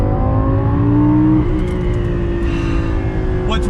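A Lamborghini Gallardo's naturally aspirated engine pulls hard and loud from inside the car, its rising harmonic drone climbing in pitch, with a brief shift in tone partway through.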